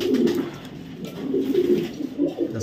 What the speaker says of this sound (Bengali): একটা মিলি রেসার মাদি কবুতর